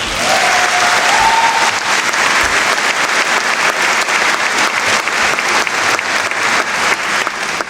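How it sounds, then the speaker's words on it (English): Graduation ceremony audience applauding the lecturers, a loud, dense and sustained burst of clapping filling the hall. "So let's give them a huge round of applause."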